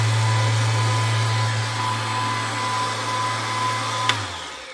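A Milwaukee M18 cordless random orbital sander runs with a loud, steady motor whir and fan rush, close by and without talk. Near the end a sharp click cuts in and the motor winds down.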